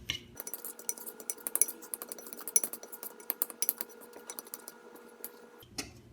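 A regular spoon stirs Oreo cheesecake batter in a bowl, giving a steady run of soft clinks and scrapes against the bowl, close and fairly quiet, with no talking.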